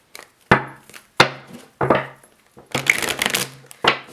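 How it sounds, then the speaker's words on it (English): A tarot card deck being shuffled by hand, giving repeated bursts of riffling and cards slapping together in an uneven rhythm, close and fairly loud with short pauses between shuffles. "I'm like shuffling the deck like this."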